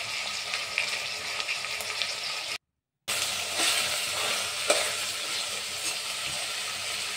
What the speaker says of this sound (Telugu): స్టవ్ వెలిగించుకున్న తర్వాత అందులో తగినంత ఆయిల్ వేసి మనం ముందుగా కట్ చేసి పెట్టుకున్న వంకాయలు, ఉల్లిపాయలు, టమాటాలు అన్నీ వేసుకోవాలి